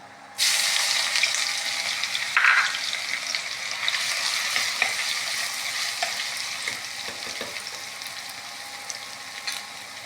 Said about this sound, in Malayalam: എണ്ണ ഒന്ന് ചൂടാകട്ടെ. ഇപ്പോൾ ഉലുവ ഇട്ടിട്ടുണ്ട്.